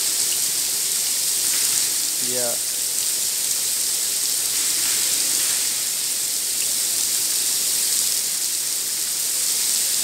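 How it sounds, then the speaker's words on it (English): Artificial indoor rain in the Sharjah Rain Room hisses steadily and evenly, a dense close shower with no break, while a voice briefly speaks. "So now I will show here that when I will go inside, the rain will stop."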